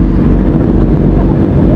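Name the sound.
QJ Motors motorcycle engine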